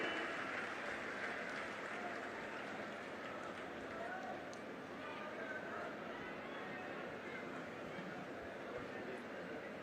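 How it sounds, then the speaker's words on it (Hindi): A large crowd at a government project inauguration ceremony in Amroha applauds, a faint, steady, far-off rush of clapping that continues evenly for about ten seconds with crowd murmur underneath. "सभी की जोरदार तालियां।"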